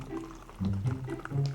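Liquid poured into a mug during a casual podcast recording, a soft gurgling fill that swells midway and carries on steadily for a moment, close and fairly quiet, with no talk over it.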